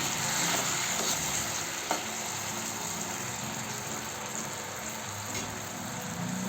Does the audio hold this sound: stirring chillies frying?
yes